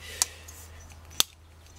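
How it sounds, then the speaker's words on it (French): Wire stripper pliers for round electrical wire 0.6 to 2.6 mm cut copper wire with two crisp, close snips about a second apart over a quiet background. "elle sert essentiellement à couper des fils électriques en cuivre, mais on peut couper d'autres types de fils"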